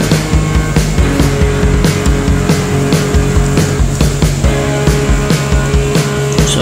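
Steady roar of road traffic on a wet street near Alabang Town Center just after rain, cars idling and rolling toward a stoplight, with tire hiss and engine rumble close by and loud throughout.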